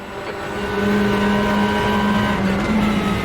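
Loud, high-pitched WTCR touring car engines in the RaceRoom racing game whine and rev steadily as cars drive close by, with a constant mechanical drone and no voices.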